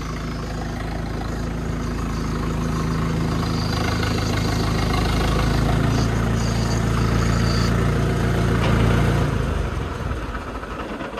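A tractor engine running close by, a steady low rumbling idle that holds for the whole stretch and swells slightly before easing off near the end.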